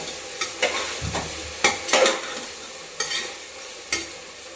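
Okra and sprouted pulses are stirred in a hot sizzling pan, a spatula scraping and clattering in several loud strokes over a continuous close frying hiss, with no talking.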